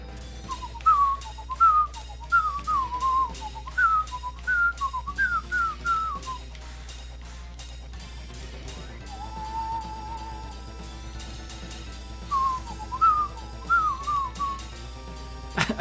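Someone whistles a tune along with music from the rhythm game Theatrhythm Final Bar Line, short lilting phrases, then a sustained held note, then more phrases, clear and close over the game's soundtrack.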